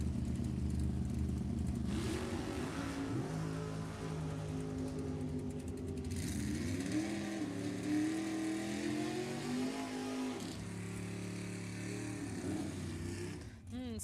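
Drag race cars at Sacramento Raceway during ET bracket racing, with engines roaring and revving at a distance under continuous commentary, rising and shifting in pitch as the cars run.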